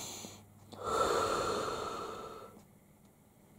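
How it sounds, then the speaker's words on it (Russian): A person breathes in deeply while having blood pressure checked on a repaired Gamma tonometer, one long, close, breathy inhale-exhale lasting a couple of seconds, with no speech. "А ну-ка еще вздохни несколько раз."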